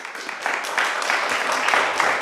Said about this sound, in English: Guys, we're not going to have clapping.